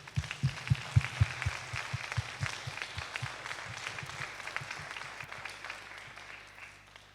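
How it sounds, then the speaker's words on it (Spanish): Audience applause for poster presenters at a health conference session, a fairly soft, steady patter of many hands with a few louder claps near the start, fading gradually. "Así que primero un gran aplauso para ellos."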